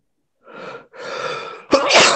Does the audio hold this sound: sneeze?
yes